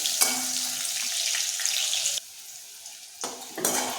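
Raw plantain pieces fry in hot oil in a pan, giving a loud, steady sizzle that drops away abruptly partway through, then bursts back twice near the end.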